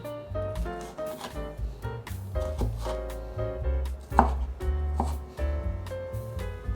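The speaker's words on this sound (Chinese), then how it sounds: "把黄甜椒切丁状" A knife dices a yellow bell pepper into small cubes on a cutting board, giving quick, repeated cuts at an uneven pace beneath steady background music.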